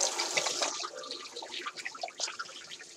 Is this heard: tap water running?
yes